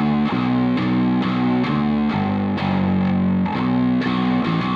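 Heavily distorted guitar chords, thick and saturated, played in chugging bursts with short breaks between them, loud and dense throughout.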